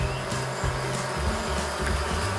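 Black honey bees at an open hive make a dense, continuous buzzing drone, loud and close, with no talking.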